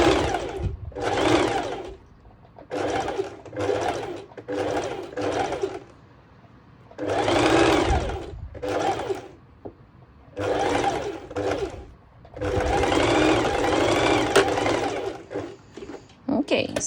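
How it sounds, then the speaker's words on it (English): A sewing machine stitches fabric for a ruched skirt in repeated bursts of fast, close mechanical whirring separated by brief pauses, with occasional talk in between. "once in a while I'm checking underneath that I'm only sewing over 1 layer"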